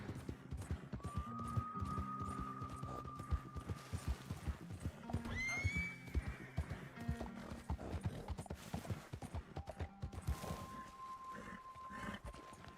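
Hooves clip-clop in a steady gallop through a video game scene while a horse neighs and whinnies loudly at several points, with no talking.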